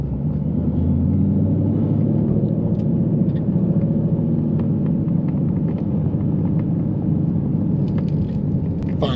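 A 700-horsepower Ford Mustang engine rumbles steadily from inside the car while driving, a deep continuous low throb that stays loud and even throughout with no talking.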